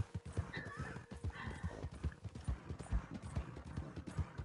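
Horse galloping in Red Dead Online, with rapid, steady clip-clop hoofbeats throughout and a neigh rising over them, loud and close, with no talking.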